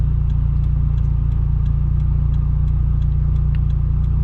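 A turbocharged Toyota GT86 on Toyo R888R tires drives through rain, heard from inside as a loud, steady low engine drone and road rumble with faint, regular ticking above it.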